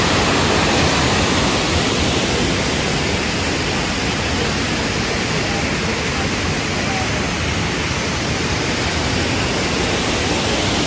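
The Suuçtu waterfall in Bursa, Turkey, roars as a loud, dense, unbroken rush of falling water that holds steady from start to end.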